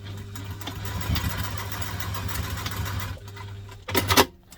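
A sewing machine stitches across the handle of a fabric lunch tote, running steadily with a low hum and rattle for about three seconds before stopping, then a brief louder clatter near the end.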